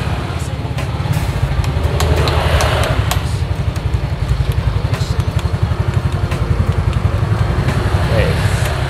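Used red-and-black motorcycle with 27,000 km on the odometer idling after start-up, a steady rhythmic low putter close by, running evenly throughout with faint background noise.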